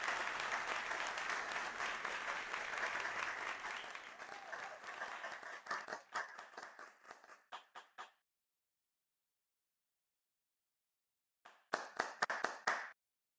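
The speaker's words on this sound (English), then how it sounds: "please give a round of applause for everyone who's been delivering today." A crowd applauds at a women's festival event, the dense clapping thinning into scattered individual claps before falling silent, then a brief second burst of claps near the end.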